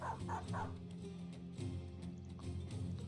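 A war dog in the Battle Brothers fantasy battle game gives three quick barks, then steady in-game battle noise continues beneath.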